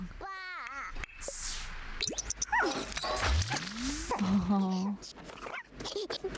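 A dog in The Sims 4 video game gives a few whimpering yips and playful sounds among cartoonish game effects and boings, while someone talks over the game.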